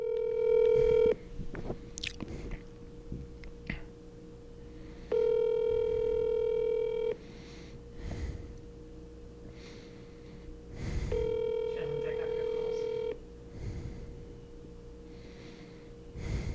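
A telephone call is dialed, with steady tone bursts sounding in three separate stretches between quieter gaps, close and clear, with a few soft snorting or handling noises in the pauses.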